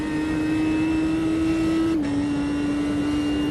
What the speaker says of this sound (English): it does sound like the engine's sort of struggling a bit to get up to speed